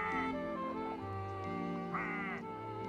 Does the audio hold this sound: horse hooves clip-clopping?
no